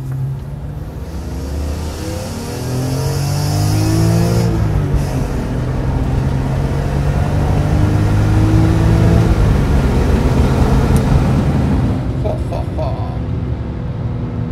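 A BMW M3 E46 in sport mode accelerates hard, its engine note rising through the revs with clear gear-change steps, loud and close from inside the car, then easing off near the end.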